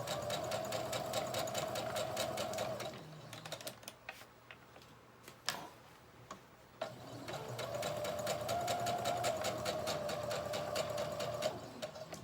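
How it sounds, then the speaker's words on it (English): A sewing machine stitches an invisible zipper seam at its longest stitch length, running in two steady rapid bursts with a quieter pause of clicks and handling in between, close and alone. "using 5/8 of an inch and also your longest stitch length, you're going to sew"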